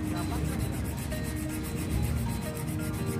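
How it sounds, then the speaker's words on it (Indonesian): Coarse sandpaper scrapes roughly in quick, steady back-and-forth strokes on a Yamaha NMAX CVT part, close up and continuous, with no talking. "Gunakan amplas yang kasar ya guys."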